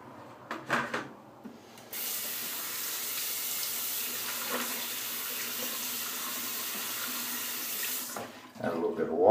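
Water runs steadily from a tap during shave preparation, a continuous close hiss and splash that starts after some brief handling sounds, flows alone for several seconds, then cuts off.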